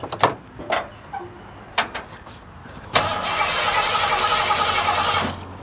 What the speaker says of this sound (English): I can probably start this vehicle now.